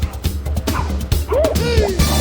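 A dog lets out short yips and high whimpering whines, close by, over a busy background of music and noise.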